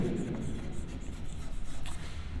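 Chalk or marker writing on a board during an English grammar lecture, a series of quick scratchy strokes, close and fairly quiet, with no talk over them.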